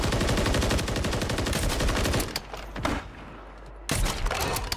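Sniper and rifle fire during a Warzone battle-royale match, rapid loud bursts of shots that cut out briefly midway before another close volley erupts.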